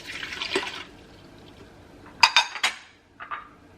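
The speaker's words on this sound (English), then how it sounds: "We're going to add the water." Water poured into a blender holding onion, cilantro and poblano peppers for a creamy poblano sauce: a brief splashy pour near the start, then a few sharp clinks of a cup or utensil against the container, with no talk.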